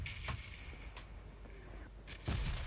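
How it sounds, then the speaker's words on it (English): Bombs from the red zone in the PUBG video game land as several sharp, booming blasts, one near the start, another around the middle and a heavier one near the end, over a steady noisy game background. "And here come the bombs from the red zone, with SK Botop being knocked by Explosion"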